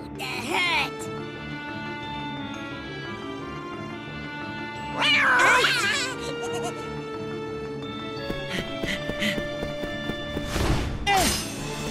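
In the Kingdom Hearts Birth by Sleep video game, a cat meows and yowls in several loud, drawn-out cries spread across a noisy battle scene, mixed with music, effects and character voices.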